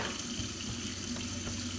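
Hot water runs steadily from a sink tap during handwashing, a continuous close splashing rush with no talking.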